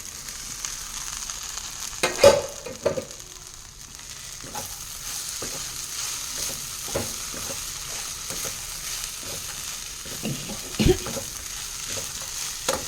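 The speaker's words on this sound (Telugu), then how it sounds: "ఇగో ఇప్పుడు ఎయిర్ ఫ్రైయర్లో ఫ్రై చేసిన బెండకాయలను ఇందులో వేసేసుకుందాం" Air-fried okra drops into a hot pan and gets stirred, a few louder clatters and scrapes of the spoon over a soft continuous sizzle, close and without talking.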